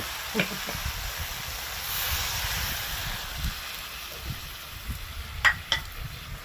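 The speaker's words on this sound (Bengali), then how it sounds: "আলু সয়াবিন মশলা দিয়ে তিন চার মিনিট এভাবে কষে নেওয়ার পর দিয়ে দেবো পোস্তটা" Potato and soybean cooking with spices in a pan sizzle with a soft, steady hiss, and occasional scrapes and clinks of a spatula come through close by.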